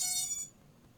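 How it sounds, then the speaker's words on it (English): AM32 electronic speed controllers on a Holybro QAV 250 FPV quadcopter powered from 6S give a brief, high electronic startup beep that quickly fades into quiet background noise. "So AM32 does this little beep beep beep."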